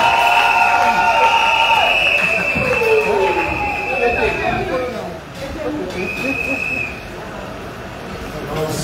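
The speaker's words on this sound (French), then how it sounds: "Sous vos acclamations, nous acclamons très fort." Crowd cheering and shouting at a ceremony handing cheques to soldiers' wives, a steady loud roar of voices that eases slightly partway through, with a few shrill whistle-like tones rising above it.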